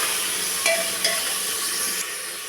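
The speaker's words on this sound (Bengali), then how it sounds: "দিলাম চিকেন, দিয়ে চিকেনটাকেও আমি একটু ভালো করে নাড়াচাড়া করে দেব।" Chicken pieces stirred in a hot pan over a gas flame give a steady sizzle and hiss, with a few soft scraping knocks of the spoon against the pan.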